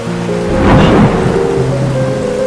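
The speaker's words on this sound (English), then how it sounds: "Why is it raining so much?" Heavy rain pours steadily while thunder rumbles low and loud through the middle, a dense continuous roar with no voices.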